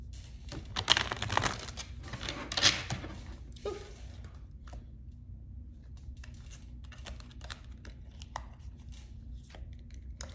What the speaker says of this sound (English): I'll go ahead and shuffle this deck and get some clarification